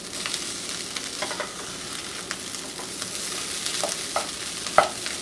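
Corned beef hash crisping in a pan, a constant close sizzle with repeated scraping taps as it is turned, ending in a sharper clack, no talking.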